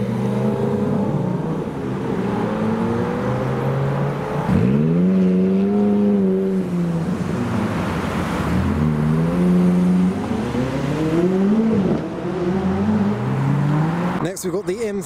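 A Lamborghini Gallardo Spider revs hard and drives past close by, its loud engine note climbing and falling in repeated sweeps for about fifteen seconds with no break.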